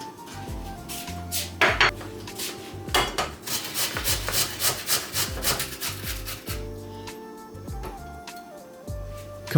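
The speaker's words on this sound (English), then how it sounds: "peel the potato, rinse it, and grate it as well" A peeled, rinsed potato scraped across a metal grater in quick repeated rasping strokes, close and fairly quiet, each pass a short gritty burst with small clinks between.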